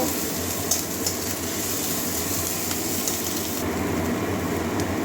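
Grated ginger added with crushed garlic to a hot pan sizzles in a steady, close hiss that stays even throughout with no talking.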